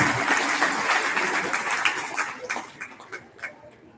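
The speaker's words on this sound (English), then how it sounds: "let's give Chase and Maddie a big round of applause for coming here today" Audience clapping at a cattle show, starting fairly loud and full, then thinning and fading to scattered claps over a few seconds.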